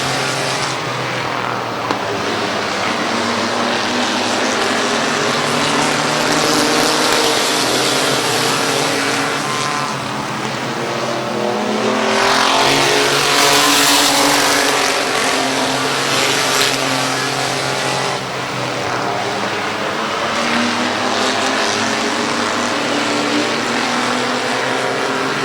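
Race cars roaring around the oval at Midvale Speedway, a loud continuous wall of engine noise with rising and falling pitch as the pack passes close by, no voices.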